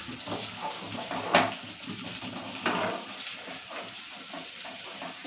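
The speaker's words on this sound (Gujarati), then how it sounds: "આપણે બધા પાત્રા એડ કરી લીધા છે હવે હળવા હાથે તેને હલાવી લેશું" Patra stirred gently in a pan, giving soft wet scraping and sizzling with a couple of light utensil clinks against the pan, close and fairly quiet.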